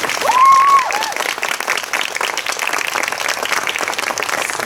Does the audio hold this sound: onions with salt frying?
no